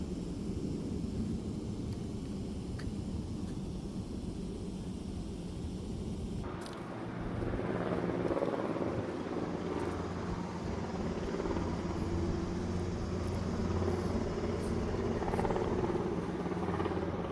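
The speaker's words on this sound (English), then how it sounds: "Now we get some noise from the airport." Aircraft noise from a nearby airport drifts over a thick, lush Florida forest at Eureka Springs in Tampa, a steady broad rumbling roar that continues without pause and swells slightly partway through, with no voices.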